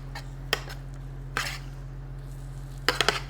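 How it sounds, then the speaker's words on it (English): Roasted vegetables with caramelized onions stirred in a pan: a few sharp scrapes and clinks of a utensil against metal, spaced out over a low steady background hum. "I'm gonna stir up our vegetables."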